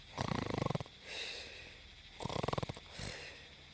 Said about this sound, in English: is snoring away to glory